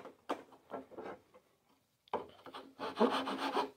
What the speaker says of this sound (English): start working that with the file.